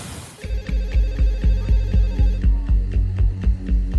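A telephone rings late at night, its repeated electronic bell bursts pulsing in a steady rapid rhythm, loud and close, with no talk.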